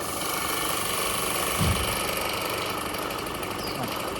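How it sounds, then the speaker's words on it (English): A diaphragm airless paint sprayer idling without spraying gives a steady, even mechanical hum with a faint buzzing vibration, continuous and unchanging at a moderate level. "That idling is bad for the machine."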